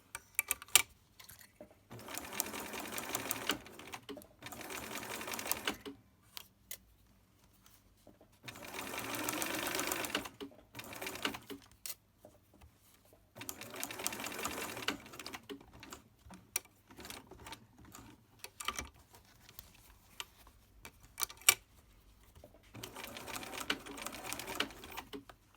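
A domestic sewing machine stitches a fabric face mask with thick elastic layers, running in close rapid whirring bursts of a few seconds each, separated by short pauses and light handling clicks.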